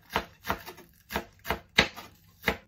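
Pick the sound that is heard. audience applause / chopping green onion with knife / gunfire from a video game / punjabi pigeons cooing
chopping green onion with knife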